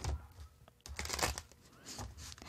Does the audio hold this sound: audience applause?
no